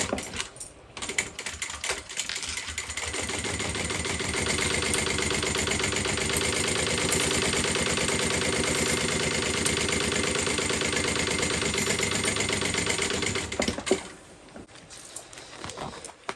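A sewing machine stitches a bag seam with the fabric placed right sides together, giving a steady, close, fast mechanical whirr that runs for about twelve seconds before stopping, with no talking over it.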